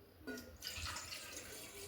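A glass of water poured into a pan to start a sugar syrup, a short faint rushing splash over a quiet room, lasting under two seconds with no talking.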